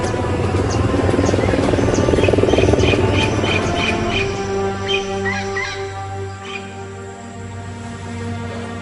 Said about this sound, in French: Les premiers hélicoptères décollent pour tenter de localiser l'épave.